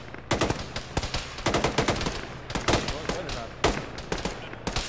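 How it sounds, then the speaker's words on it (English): Gunfire in an Arma battle: bursts of automatic rifle fire and single cracks, some close and loud, others farther off, crackling unevenly throughout with faint voices underneath. "We're taking fire to the, from the wall to the right of the VTR"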